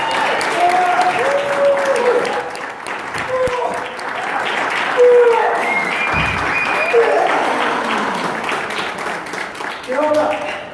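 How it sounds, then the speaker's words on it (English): Sustained crowd applause at an Aquaman exhibit opening at Warner Bros. Studio Tour Hollywood fills the space, with voices talking and calling out over the clapping throughout. "Let's give it a big round of applause."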